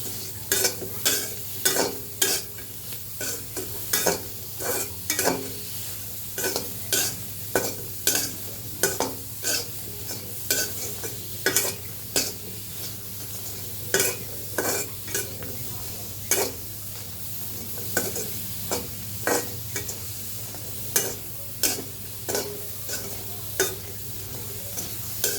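Onion, garlic and green chili dry-frying in a pan without oil while being stirred, a soft sizzle under repeated sharp scraping strokes of the spoon, dozens of them in an uneven rhythm, close and alone.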